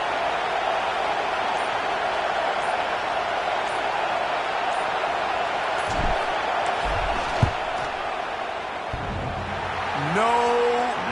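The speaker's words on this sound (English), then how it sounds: "This crowd trying to do its part to get inside the kicker's head." Stadium crowd at a football game roars steadily as a kicker lines up for a second-quarter field goal attempt, a broad distant wash of noise with a few thumps near the end.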